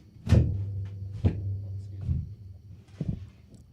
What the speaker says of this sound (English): I'm gonna shut this fucking door